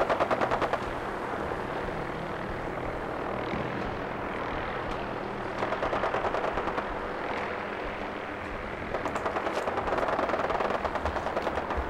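Rapid bursts of automatic gunfire in Fallout 4 crackle in steady rattling volleys over a low engine drone, with short pauses between bursts; no voices.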